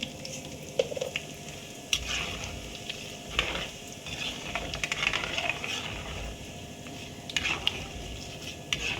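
Dried red chillies crackle and sizzle in hot oil for a sweet mango-ginger pickle, with a steady close frying hiss, occasional utensil scrapes and stirring clinks throughout.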